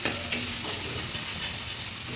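Spices with dried red chilli and green chilli paste are stir-fried for a loki leaf sabji, giving a brief, close, even sizzle with a couple of stirring clicks at the start.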